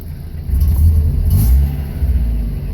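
A 1990 Mazda Miata, an early NA model, idles close by, its engine holding a steady low rumble with a slight swell in the middle; no one speaks.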